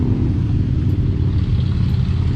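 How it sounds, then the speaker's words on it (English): Motorcycles pass near a remote river, a steady low engine rumble holding throughout without a clear rise or fade, with no voices over it. "That sounds like a motorcycles."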